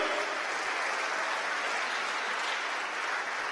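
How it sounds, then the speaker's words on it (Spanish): A church congregation applauds during a Spanish-language sermon, a steady, even wash of many hands clapping at moderate volume throughout, heard from within the room. "Démosle palmas al Señor, hermano"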